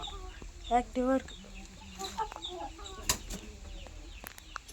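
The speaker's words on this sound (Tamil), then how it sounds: "இந்த கோழியெல்லாம் இப்போ நல்லா இருக்கு" Backyard chickens cluck and squawk close by in short, irregular bursts, with a wing flap or two, while a person speaks briefly over them.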